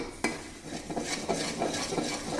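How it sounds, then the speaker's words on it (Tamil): A sugar mixture for Mysore Pak is stirred in a pan with a spoon or spatula, giving repeated scraping and clinking strokes against the metal at a steady rhythm, close and moderately loud, with no talking. "எல்லாத்தையும் ஒன்னா மிக்ஸ் பண்ணிவிட்டு நம்ம போட்டு கிளறிட்டே இருக்க வேண்டியதுதான்"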